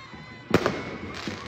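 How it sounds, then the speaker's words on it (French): Fireworks going off during a football match, a sharp burst of loud bangs and crackles that quickly fades into a steady crowd-like wash, with a second softer crackle toward the end. "Voilà, des feux d'artifice."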